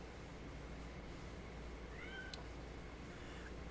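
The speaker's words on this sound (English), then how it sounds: "that's the devil cat that we hear 24/7." A cat meows once, faint and brief, high above a steady wash of background noise, with no other voices nearby.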